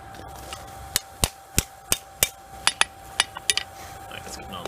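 A hammer forges a railroad spike into a knife, probably with a 2-pound hammer. About a dozen sharp metallic blows land at a fairly steady rhythm and quicken near the end, loud and close over a steady hum.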